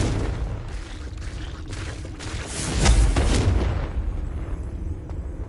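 The Confringo explosive spell going off in Hogwarts Legacy: a rumbling, booming blast that swells to a peak partway through and then fades into a low roar, with no voices over it.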